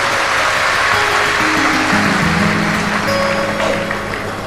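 Loud, steady clapping from a large crowd at a Shiv Mahapuran religious discourse, welcoming the host family. It fills the whole clip with sustained clapping, and a faint tone hums underneath.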